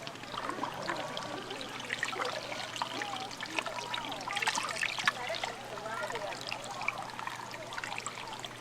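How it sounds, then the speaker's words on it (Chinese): Boiled water trickling and pouring into a cast-iron pot set over a fire pit at a tea-plantation campsite, a steady splashing stream for several seconds, with people talking over it. "开水"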